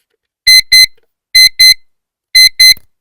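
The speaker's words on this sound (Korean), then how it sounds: "이렇게 알람이 떠요" A reading-focus timer clock sounds its alarm: three loud pairs of short, bright electronic beeps in a regular pattern, with silence between each pair.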